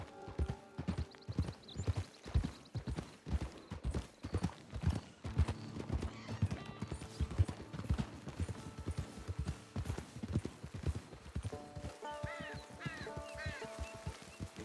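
Horse hooves clop rapidly and rhythmically in Red Dead Redemption 2, close and prominent over outdoor ambience, with brief whinnies or calls and a short stretch of game music toward the end.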